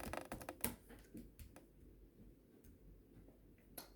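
Fingers tap a computer keyboard in a quick, uneven run of faint, close clicks and ticks, with brief pauses between bursts.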